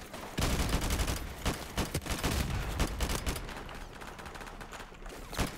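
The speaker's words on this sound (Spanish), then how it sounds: "Están disparando que te cagas" Rapid gunfire rattles through a Call of Duty 4 Modern Warfare Remastered match: overlapping bursts and sharp single shots crack in quick succession, nearly continuous and fairly loud throughout.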